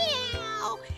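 A voice imitates a cat meowing during a children's story reading, a single drawn-out, rising and falling meow delivered close and clearly, followed by a short bit of speech.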